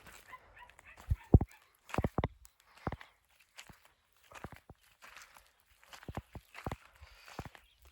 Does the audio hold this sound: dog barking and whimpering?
yes